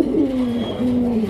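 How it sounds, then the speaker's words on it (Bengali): A single pigeon in a Bangladeshi loft gives a short, clear, low coo with a falling then steady tone, close and unaccompanied, lasting just over a second. "কবুতর কারো কথায় ডাকে না"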